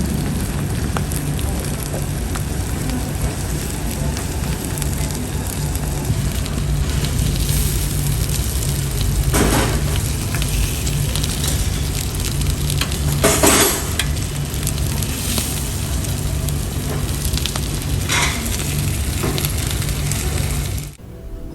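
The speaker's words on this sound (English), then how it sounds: "I'm sure you want to hear the satisfying sizzling sounds." Marinated pork sizzles loudly on a hot grill in a continuous dense hiss and crackle, with occasional bursts of stronger spitting and brief stirring or scraping sounds.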